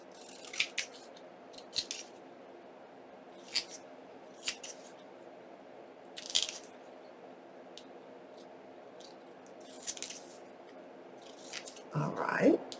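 Scissors trimming paper for a file folder pocket, a series of crisp separate snips spaced a second or two apart over a quiet room hum, with a rustle of paper at the end.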